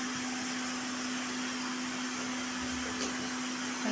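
A kitchen mixie grinding chutney made with sundakkai, garlic and chilli, a steady loud motor whine holding one constant tone for the whole stretch with no pauses and no voices.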